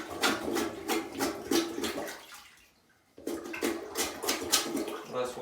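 Water sloshes and gurgles as a plunger pushes it out of a toilet bowl during toilet removal, in two bursts of splashing separated by a brief pause, close and fairly loud.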